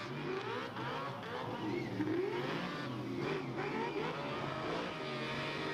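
Several racing cars revving at high RPM, giving a continuous dense engine whine with rising and falling pitch sweeps that overlap throughout, steady and moderately loud with no voices.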